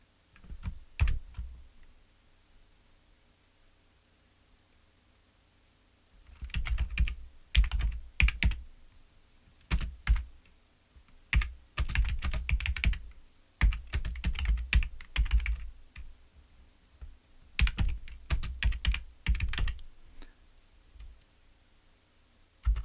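Bursts of typing on a computer keyboard, rapid clustered key clicks alternating with pauses, close and fairly loud, with no voices.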